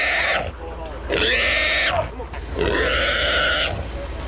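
A 60-pound wild hog caught with dogs grunts and squeals loudly in two long, harsh bursts with a short gap between them. The sound is close and rough, with outdoor noise underneath.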